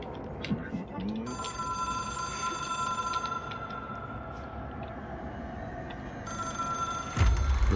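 A telephone ringing in the video game Control, a steady electronic trill over a dense low ambient hum of the game world.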